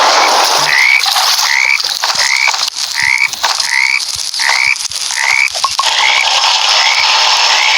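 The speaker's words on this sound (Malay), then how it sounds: "Ada ni katak lagi." Frogs croak in a Roblox forest survival game, a steady series of about ten evenly spaced, loud rasping calls with constant background ambience and no talking.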